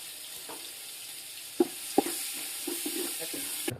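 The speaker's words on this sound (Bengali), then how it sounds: "এখানে আমি পেঁয়াজ বেরেস্তা করে নিচ্ছি" Onions fry for biryani beresta with a faint, continuous sizzle. A couple of sharp utensil knocks come near the middle and a brief louder rustle at the end.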